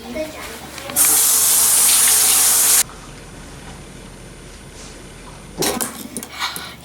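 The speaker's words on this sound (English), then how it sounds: "Time to wash my hands." A kitchen tap gushes loudly for about two seconds while hands are washed, then cuts off. A shorter splash of running water follows near the end.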